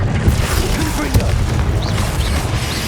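Confringo fire-blast spell explosions in the video game Hogwarts Legacy, a dense crashing, booming blast texture with a sharp hit near the middle, amid combat noise and some voice.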